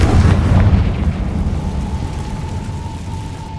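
The Confringo fire spell from Hogwarts Legacy goes off in a single heavy, close explosive boom, which trails into a fading rumble with a faint steady tone beneath it.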